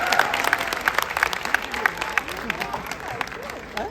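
An audience applauds to welcome actor and two-time MP Ravi Kishan onto a Hindi talk-show stage, a steady wash of clapping with scattered sharper claps and some voices mixed in.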